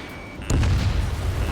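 An air-to-air missile launched and detonating in the Ace Combat combat flight game, heard as a sudden loud boom with a rumbling, roaring tail that fades slowly, standing alone without any talk.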